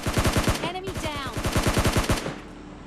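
An M249 machine gun in the PUBG Mobile Lite video game fires rapid sustained bursts, loud and close, with game effects layered in and the fire cutting off abruptly near the end.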